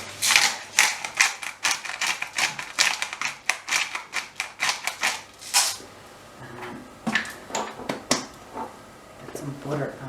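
Black pepper is ground from a hand pepper mill over a cottage pie filling, giving a rapid run of dry crunching, ratcheting clicks close by, then a pause and a few shorter bursts.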